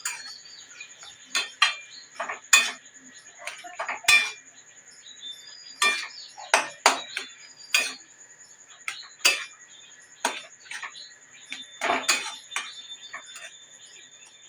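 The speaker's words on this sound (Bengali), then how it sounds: "এরপর আমি এর ভিতরে দিয়ে দেবো অল্প একটু শাহি গরম মশলা, দিয়ে ভালো করে মিশিয়ে নেব" A spoon mixing shahi garam masala into a vegetarian dish in a pan gives repeated sharp metallic clinks and taps at an uneven rhythm, close and clear over near silence, no talking.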